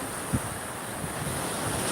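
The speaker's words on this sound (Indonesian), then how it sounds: "lagi di pantai" Surf rolling onto Katapian beach with steady wind buffeting the microphone, a continuous loud wash of waves and wind noise with no talking.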